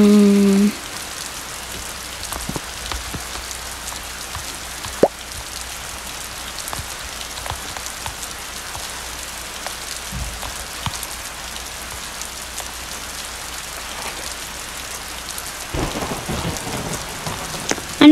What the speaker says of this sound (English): And it's only thunder out there.